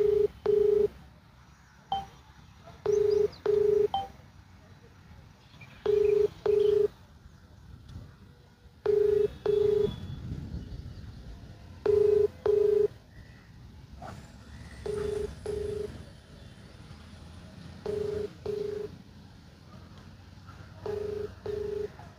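An outgoing phone call rings without being answered: paired ringback tones repeat about every three seconds, clear but modest in level, over faint room noise with no speech.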